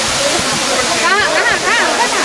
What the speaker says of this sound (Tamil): ஸோ இதான் அருவி, பின்னாடி எப்படி பாருங்கள், செம்ம சூப்பராக இருக்குது.